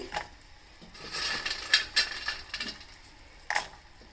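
Makhana being stirred with melted 5 Star chocolate in a pan, heard as a few short scraping strokes and soft clacks of the spoon against the pan, close and fairly quiet.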